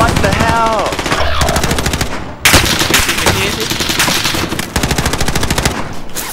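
Sustained automatic gunfire in a battle royale video game, loud and close, rattling in rapid unbroken bursts with brief pauses, while players shout over it.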